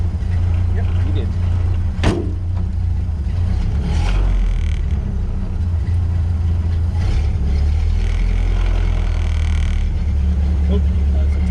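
A Ford Model A garage-find engine runs in first gear with a steady low rumble at close range, a few clunks and knocks scattered throughout, and voices speaking over it.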